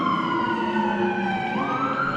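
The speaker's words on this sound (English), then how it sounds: "there's some police cars making their way onto the ice" Police car sirens wail steadily and loudly inside an ice hockey arena as the cars drive onto the ice, a sustained rising and falling tone.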